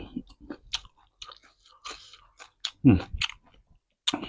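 Someone chews a Thai mussel miang wrap of spicy seafood with crisp kale shoots, giving several close, crunchy bites in short irregular bursts with quiet gaps between.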